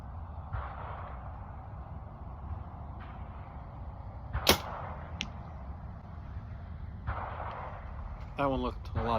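An arrow is released from a bow at an outdoor archery range, giving one sharp snap near the middle over steady background hiss, followed by a fainter second crack and later a short burst of noise.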